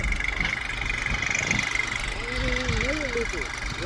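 A tractor engine idles with a steady low throbbing rumble, while a voice speaks briefly over it toward the end.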